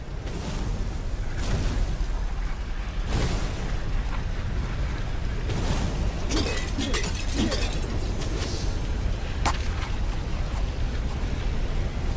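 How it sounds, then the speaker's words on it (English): Objects break apart in Stories: The Path of Destinies: repeated crashing smashes and shattering bursts over a steady rumbling game background, with a cluster of sharper cracks in the middle. "Smashing things was fun."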